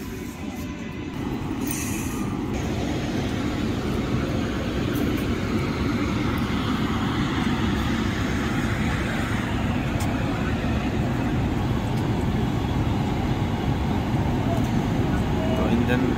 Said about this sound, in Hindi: तो आज ये आ गया अपना लोकोमोटिव।